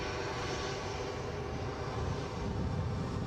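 An easyJet airliner running by at Edinburgh airport, a steady broadband jet engine roar holding constant and swelling slightly toward the end, with no voices over it.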